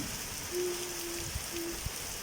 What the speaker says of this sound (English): Rain is tearing outside.